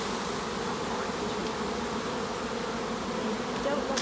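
Honeybees at a hive buzz steadily and close, a dense, even drone of many wings fanning without pause.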